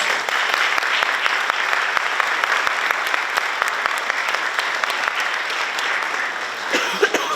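Steady, dense applause from an audience at a National Honor Society induction ceremony, sustained and fairly close throughout, with a few coughs scattered within it.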